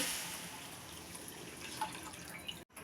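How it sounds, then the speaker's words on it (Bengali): Water poured into a pan of fried mung dal, a steady close trickle and splash at low level that cuts off abruptly near the end, with no talk. "জল দিয়ে দিচ্ছি।"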